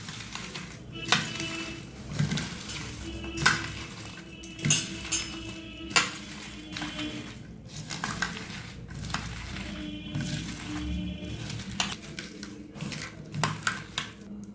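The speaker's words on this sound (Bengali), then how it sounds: "দিয়ে দেবো নুন, দিয়ে দেবো হলুদ, হাত দিয়ে ভালো করে মাখিয়ে নেব।" Banana stem pieces being mixed by hand with salt and turmeric in a metal bowl, giving soft squishing rubs with scattered clinks and knocks against the vessel, steady and close throughout with no talk.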